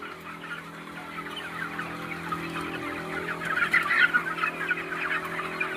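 Broiler chickens about sixteen days old cluck and chatter together inside a poultry farm shed, a dense steady flock murmur that swells louder toward the end.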